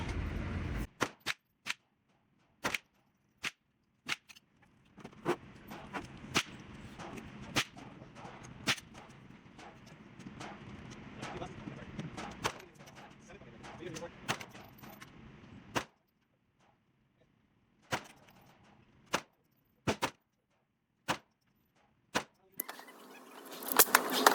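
A 9mm pistol fires at an outdoor shooting range, sharp loud cracks in an irregular string of single shots with short pauses, a faster run in the middle and a final cluster near the end.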